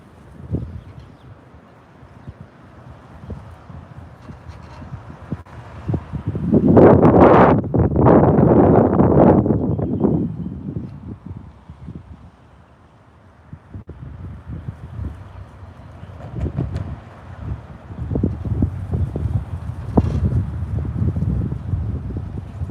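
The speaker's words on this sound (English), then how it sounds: "It's windy out here today too" Gusts of wind buffet the microphone in loud rumbling bursts that rise and fall, with quieter rustling between gusts and no talking.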